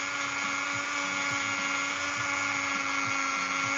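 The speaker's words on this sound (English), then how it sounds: "In my case, it's the Dremel." A Dremel rotary tool grinds a cheese knife blade, giving a continuous high-pitched whine that holds steady and close throughout, with no voices.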